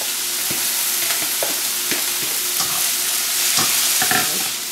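Chopped tomatoes hit a hot pan over medium heat with a loud, steady, close sizzle, broken by scattered clicks and scrapes of stirring, with no talking.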